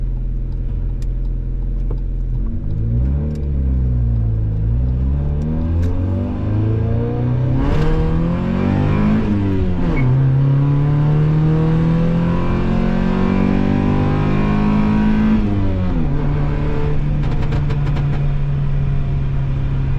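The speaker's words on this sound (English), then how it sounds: "we're gonna drive this thing around a little bit more and have a little more fun with it" A budget-build Honda Civic with a 5-speed manual swap driven on the street, its engine loud and close, revving up and down through several climbing pulls and gear changes with no talking.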